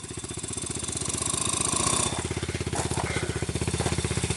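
Motorcycle engine running steadily on a dirt outing to an abandoned uranium mine, a loud, continuous rhythmic pulsing close by that swells slightly and keeps going without a break.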